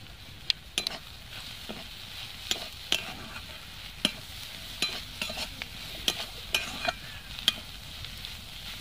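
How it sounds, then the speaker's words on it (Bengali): Ground coriander and chilli powder are stirred in a frying pan for a Bengali snack, with a soft sizzle underneath and a spatula scraping and clinking against the pan in irregular sharp taps. "এইভাবে আর 1 মিনিট মতো ভালো করে নাড়াচাড়া করে নামিয়ে নেব"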